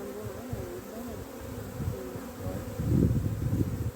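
Dense buzzing of many honeybees during swarm creation, a steady low hum with individual bees droning close by, growing louder near the end.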